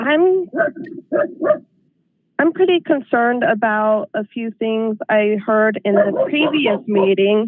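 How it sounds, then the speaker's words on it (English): Dogs bark and yip in short bursts close to a telephone caller, mixed in with and partly masked by her steady speech. "I'm sorry about the dogs."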